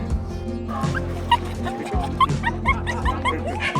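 Several dogs bark and yip at a dog show, close and loud, with a whimper between barks over a busy crowd murmur and a steady low hum.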